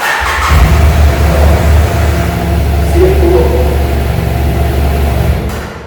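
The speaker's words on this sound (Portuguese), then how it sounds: "A hora que você liga a moto, a primeira ela faz esse barulho, depois ela vira gatinho" A BMW F800GS motorcycle engine starts and runs with a rattling tensioner chain noise, a loud close rumble that settles into a steady idle, alone without speech.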